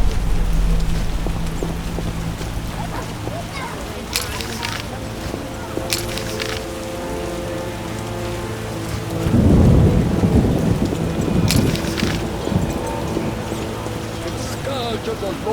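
Steady rain and rolling thunder in The Witcher video game, with a heavy thunder rumble swelling midway and sharp cracks overhead, while voices speak over the downpour.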